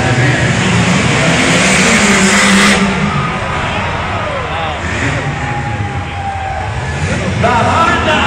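A Honda Civic and a Jeep racing through barrels at a tough trucks event, loud engines revving and roaring close by under excited commentary and crowd noise.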